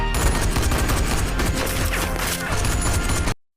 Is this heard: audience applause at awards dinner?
no